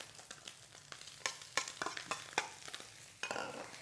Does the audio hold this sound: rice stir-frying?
yes